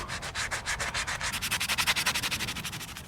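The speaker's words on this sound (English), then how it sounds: "I'm also going to sand the flywheel real good. It's pretty rusty" Sandpaper scrubs a rusty flywheel from a Kohler 149cc XT engine on a Lawn-Boy mower in rapid back-and-forth strokes, a close, rhythmic rasping that speeds up and grows sharper midway.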